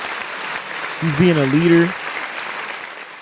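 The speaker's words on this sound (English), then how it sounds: "I got to give him a round of applause" Applause sound effect with broadband clapping running throughout, while someone talks over it in the middle.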